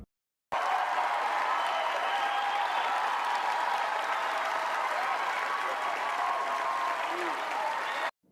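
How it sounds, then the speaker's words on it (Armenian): Sustained applause from a large audience in the hall at the Oscars ceremony, a dense, even wash of clapping that runs steadily for several seconds before cutting off abruptly. "Եկեք դահլիճի ոգևորիչ ծափահարություններն ու դերասանի էմոցիաները դիտենք իրական ձայներով։"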